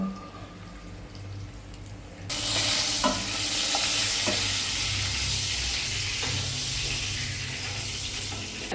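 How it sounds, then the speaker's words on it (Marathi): Cumin seeds and turmeric frying in hot oil for an ivy gourd bhaji, a steady close sizzle and hiss that jumps louder after a couple of seconds, with occasional stirring clinks and no talk. "तर आता हे आपण ह्यात आधी फ्राय करून घेऊ."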